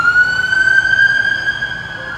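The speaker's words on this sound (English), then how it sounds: "police car going by" Loud police car siren passing close by, a steady wailing tone that drifts slightly in pitch over a low traffic rumble, with no talking.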